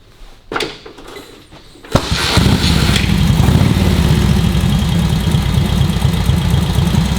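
A vintage Harley-Davidson WLA motorcycle engine sputters and coughs, then catches and revs hard, settling into a loud, steady roar close to the microphone.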